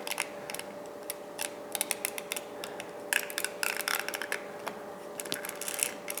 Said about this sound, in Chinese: 按一下快门。